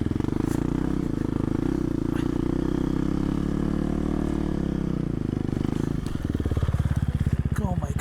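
A KTM 350 dirt motorcycle engine drones loud and steady while riding through deep sand on an Arctic coast in Barrow, Alaska, shifting to a lower, rougher chug near the end.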